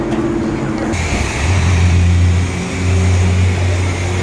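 A Nissan 240SX with a KA24E engine runs loud and close. Its low, steady hum shifts pitch early on as the revs change, then settles into a droning tone.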